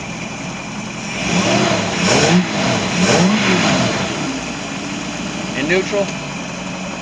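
A Four Winns boat engine with new bellows and an adjusted shift runs at a steady idle, with its low rumble changing slightly as it is shifted into neutral while someone talks over it.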